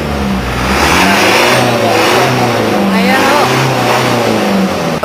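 Car engine that had been overheating runs and revs loudly up close, a steady rising drone with someone speaking briefly over it.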